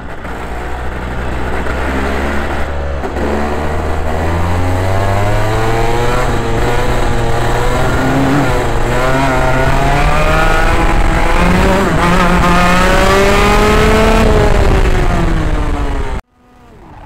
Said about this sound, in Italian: su il sound dei motori!